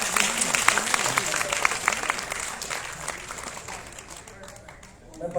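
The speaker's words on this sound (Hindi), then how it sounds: "एक बार जोरदार तालियों से स्वागत करें।" An audience applauds a third-prize winner at a student elocution contest during a festival event, a broad burst of clapping that gradually thins and fades.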